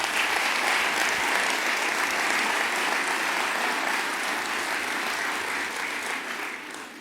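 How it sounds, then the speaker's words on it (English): An audience at the State of the Urban League address breaks into sustained applause, a dense wash of many hands clapping that holds steady and then fades toward the end. "you deserve another applause for that work"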